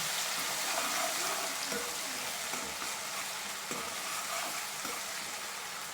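A village-style fish curry is stirred in a pan, a soft continuous sizzle broken by scraping spoon strokes every second or so, close and fairly quiet with no talking.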